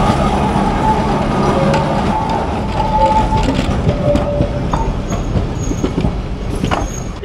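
An old Kolkata tram built in 1988 rumbles along continuously and loudly as it makes a turn, with steady rail and wheel noise and faint squeal tones near the end.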